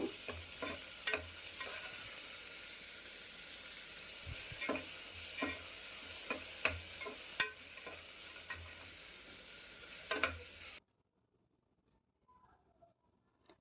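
Chillies and small tomato pieces fry in a pan for a chana dal masala curry, with a steady sizzle and occasional spatula scrapes and taps, close and continuous until it cuts to near silence.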